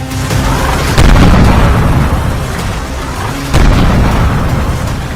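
Air strikes and explosions in Baghdad come through as a loud, continuous roar, broken by two heavy booms about two and a half seconds apart, each followed by a rumbling tail.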